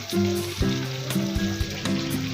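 Food frying in a pan for a Lahori-style recipe, a loud close sizzle with a few sharp clinks and scrapes from stirring over a short stretch.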